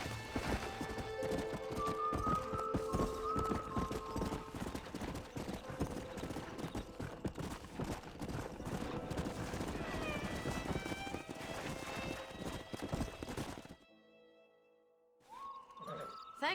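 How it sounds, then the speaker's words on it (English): Horse hooves clip-clopping in Red Dead Redemption, a quick steady gallop-like rhythm of hoof strikes up close alongside an occasional whinny, with music playing underneath, ending in a brief drop to near silence. "We got some fine horses."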